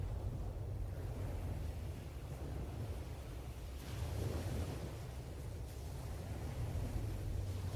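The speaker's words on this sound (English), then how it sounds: "the sounds of the water thundering against the cliffs" Sea surf rolls and rumbles continuously against coastal cliffs, a deep low roar with gusts of wind buffeting the microphone, steady and fairly distant, with no voices.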